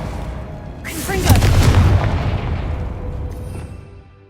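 A Confringo fire spell detonates in Hogwarts Legacy: a loud, broadband blast about a second in, followed by a rumbling, crackling tail that slowly fades over the next few seconds.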